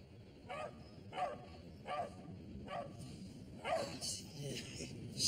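Dog barking in a French film scene, a run of six or seven evenly spaced barks at moderate distance over soft background noise.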